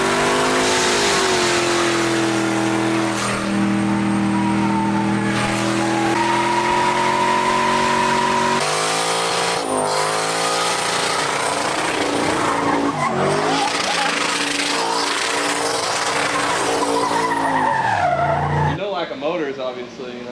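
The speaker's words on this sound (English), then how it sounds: "I'll chuck some footage in here of him doing some burnouts in it." A drift car does burnouts on the street, engine revving hard with long, loud tire squeal and skidding that rises and falls across several passes, with voices shouting over it.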